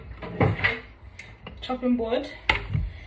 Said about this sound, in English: So we're gonna get a chopping board.